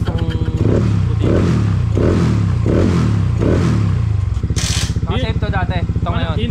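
A Yamaha Mio i 160cc scooter with a stock head runs close by, its engine pulsing through five rhythmic revs before settling to a steady idle, with a voice breaking in near the end.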